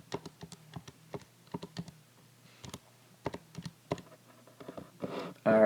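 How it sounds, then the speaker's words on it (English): Quick, light plastic key presses on a calculator tapped out in short irregular bursts, close by, with a louder thump at the end. "make sure that you're typing this into your calculator correctly"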